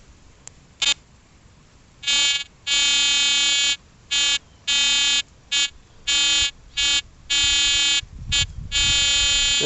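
A handheld pinpointer metal detector probe sounds in short, loud electronic buzzes, first in a few quick bursts and then in longer pulses, over a faint background of digging at a detecting site.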